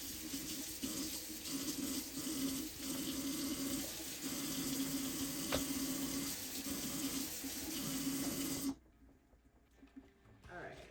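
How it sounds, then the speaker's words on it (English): Raw lamb chops are washed under a steadily running kitchen tap, the water gushing and splashing close by for several seconds before cutting off abruptly, leaving quiet handling noises. "you gotta wash that meat. You just gotta wash the meat."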